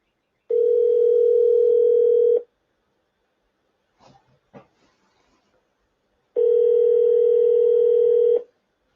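Telephone ringing on a call, two long steady electronic ring tones separated by a pause with a few faint clicks between, loud and clear with no talking.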